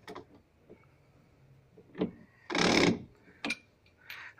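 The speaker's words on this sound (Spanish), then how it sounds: "la parte de atrás del otro engrane rozaba con el de enfrente." Gears rubbing inside a Mabe Aqua Saver washing machine during repair make a harsh grinding burst of about half a second, flanked by sparse clicks and knocks, close and fairly quiet in an otherwise still room.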